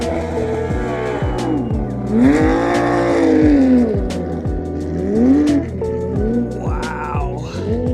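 A Porsche 993 race car on a studded-tire ice track roars loudly nearby, its engine rising and falling through repeated revs and gear changes, with a squeal of tires on ice during the run.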